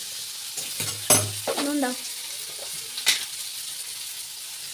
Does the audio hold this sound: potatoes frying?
yes